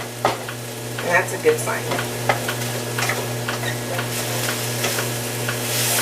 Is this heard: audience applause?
no